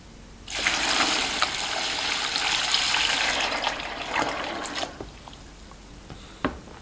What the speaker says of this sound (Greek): Τώρα αυτό που θα κάνουμε είναι να γεμίσουμε τα δοχεία μας με τα χαρούπια με νερό.